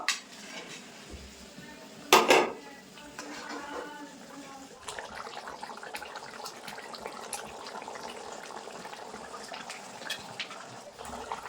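Fried pangas fish pieces going into boiling gravy in a pan: a sharp metallic clatter and splash early on, followed by continuous bubbling and clinking of utensils, close by, with no voices.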